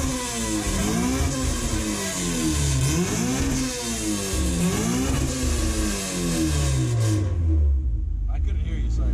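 Honda Civic EF track car engine idling high while cold, its pitch rising and falling in repeated revs before settling lower, loud and close, with faint talk in the background.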